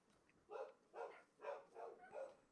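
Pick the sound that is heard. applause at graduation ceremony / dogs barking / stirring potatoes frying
dogs barking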